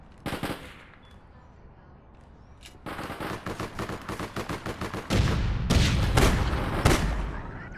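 Rapid bursts of automatic gunfire from the online shooter APB Reloaded, a short volley first, then a steady rattling stream and a louder, denser close-range barrage at the end, with no talk over it.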